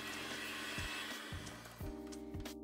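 An electric mixer beats vanilla into bundt cake batter, a steady whirring motor hum that dips in pitch several times as the beaters work through the thick mixture.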